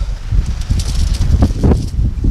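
Gusty Paris wind buffets the microphone, loud broadband rushing with rustling bursts that rise and fall over a couple of seconds.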